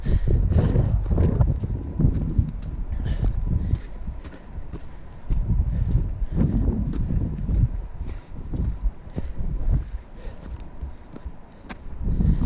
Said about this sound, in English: And the wind's coming back